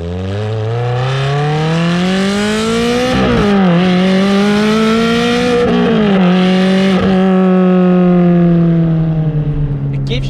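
A Ferrari 360 with the F1 robotized gearbox accelerates hard, its engine note rising in pitch through several gears with quick shift dips in between, loud and close throughout.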